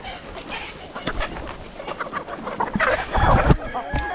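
Free-range native country chickens on a poultry farm cluck and call in overlapping bursts, several birds close by with others farther off, building in activity toward the end.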